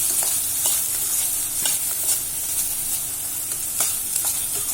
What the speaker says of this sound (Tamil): இன்னும் கொஞ்சம் எண்ணெய் ஊற்றணும் நல்லா வதக்கிட்டே இருக்கணும்